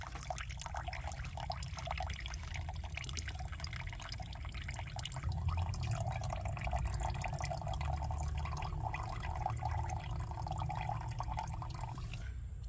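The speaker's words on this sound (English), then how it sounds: "Carefully pour this into a jar or bottle." Homemade liquid weed tea fertilizer being poured into a jar, a soft continuous trickle and splash of liquid that grows a little fuller partway through, heard quietly and alone.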